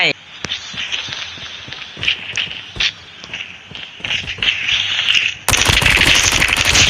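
Dingo machine gun in the Call of Duty Mobile video game firing in short bursts of rapid shots, loud and close, ending in a sustained stream of fire, with someone talking over parts of it.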